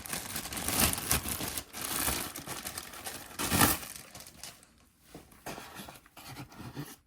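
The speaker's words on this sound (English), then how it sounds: "Let me just get it out of its plastic bag." Plastic bag crinkling and rustling up close while a Milwaukee M12 Fuel hammer drill is pulled out of its packaging, continuous crackly handling that thins into sparse crinkles.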